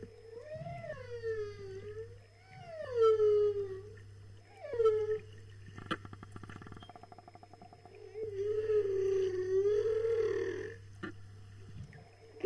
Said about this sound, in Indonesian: Nyanyian paus.